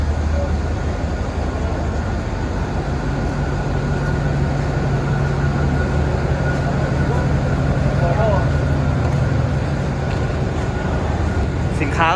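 Passenger express train with old Daewoo sleeper cars and a GEK locomotive at a Thai railway station, a steady low rumble and rolling hum throughout, with voices talking over it.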